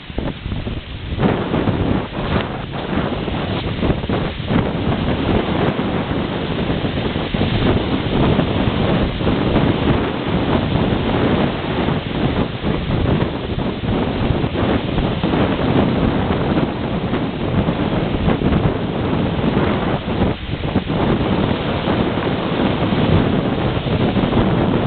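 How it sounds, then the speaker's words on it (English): Wind and waves on the Arctic Ocean shore at Prudhoe Bay, Alaska, a steady loud broadband roar with wind buffeting the microphone throughout and no voices. "This is the Arctic Ocean at Prudhoe Bay, Alaska, and we are going to take a bit of a wade in it."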